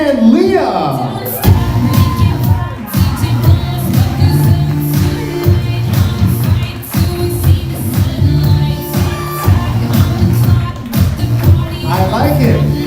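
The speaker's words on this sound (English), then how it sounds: "having a great round of applause for Steve and Leah." An audience at an evening dance event cheers, whoops and claps as a couple makes an entrance, a loud lively crowd noise under loud music, with a voice briefly heard at the start.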